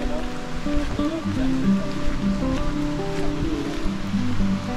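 River water flows in a steady, close broadband rush that continues without break while a voice speaks over it.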